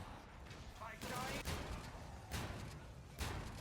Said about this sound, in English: I'm just shooting this dude with a shotgun right now